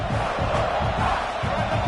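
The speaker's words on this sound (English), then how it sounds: "And here comes the noise. This crowd is trying to inspire this defense to make a big red zone stop." Football stadium crowd at a Michigan at South Carolina playoff game roaring and cheering for the defense, a loud, dense, continuous wall of voices with pulsing swells.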